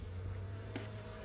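A dense, steady hum of many honey bees buzzing together in a packed 5-frame nuc hive, close and continuous, with a low drone underneath and no voices.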